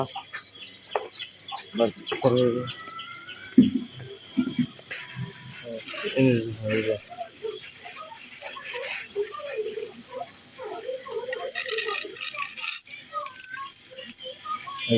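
Chickens cluck and squawk repeatedly at close range, with some rattling and shuffling noises mixed in.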